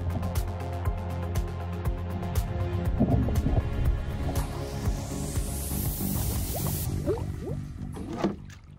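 Water is scooped from a creek in Alaska, with dripping, sloshing and splashing as a container fills, close by under steady flowing-water background.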